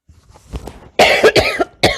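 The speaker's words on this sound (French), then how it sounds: "C'est très très gênant de tousser." A person coughs up close: a few soft throaty hacks, then two loud, harsh bursts of coughing in quick succession.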